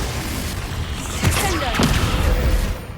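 In the Hogwarts Legacy video game, Confringo fire spells explode in loud, booming blasts layered over a dense, continuous rumble of combat noise.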